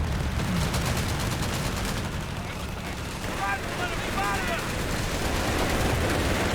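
Steady machine-gun fire and scattered battle blasts rattle on throughout a Company of Heroes 3 real-time strategy match, mixed with other combat noise in a dense, continuous wash.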